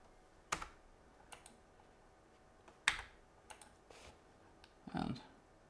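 Clicks of a faulty left mouse button on a DEC VAXstation 4000 VLC, a few sharp, sparse clicks spaced irregularly and fairly faint against a quiet background.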